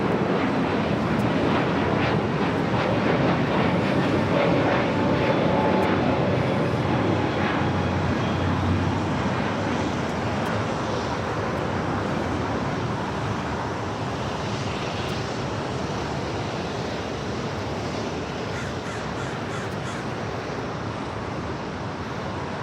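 A Delta airliner takes off from runway 25 Right at LAX, a broad, loud jet roar that fills the whole span, strongest early on and then easing gradually as the aircraft pulls away.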